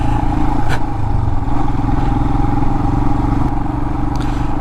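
A Royal Enfield Himalayan motorcycle rumbles steadily over rough off-road terrain while moto camping, its engine drone loud and continuous, with scattered rattles and scrapes from the bumpy ground and no talking.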